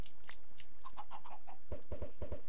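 Chickens clucking in the Minecraft video game as a chicken cannon fires them, with a few short cackles early on, then a rapid run of five or six sharp, popping launches close by.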